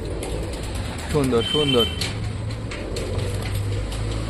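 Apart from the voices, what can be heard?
pigeon cooing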